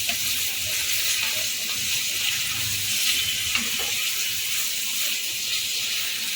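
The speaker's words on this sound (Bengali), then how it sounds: "চিকেনটা দিয়েও একটুখানি পেঁয়াজের সাথে ভালো করে নাড়াচাড়া করে নেবো" Chicken frying with onions for tehari, a continuous close sizzle and hiss with faint stirring movements underneath.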